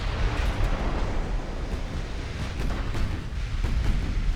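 Heavy, rumbling naval impact from Ultimate Admiral Dreadnoughts, a 19-inch shell striking a battleship's forward belt, a dense, booming roar with crackling bursts that stays loud and continuous for several seconds.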